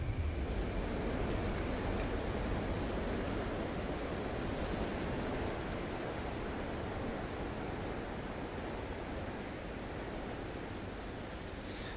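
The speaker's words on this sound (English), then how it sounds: "The rain is pretty much non-stop." Steady, dense rain hisses without a break across an alien planet in No Man's Sky, a broad even wash of drops with no voices.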